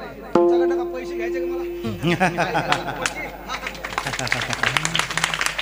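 An audience at a devotional gathering breaks into rhythmic clapping that builds and continues steadily, heard alongside a voice and background chatter.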